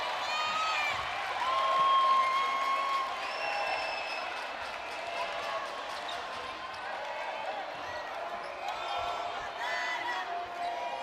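A basketball crowd at a boys' semi-final roars and cheers continuously in an indoor arena, with scattered shouts and clapping blended into the steady noise.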